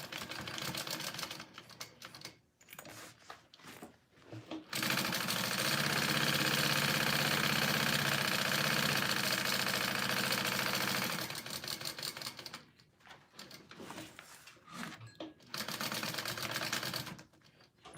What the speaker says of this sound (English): I'm gonna go ahead and sew this side together